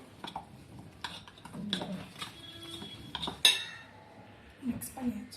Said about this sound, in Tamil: இதை நல்லா மிக்ஸ் பண்ணிக்கணும்.